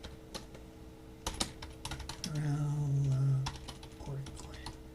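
Typing on a computer keyboard in a tissue lab, a scatter of close clicks and keystroke bursts over a steady hum, with a low droning tone swelling in the middle.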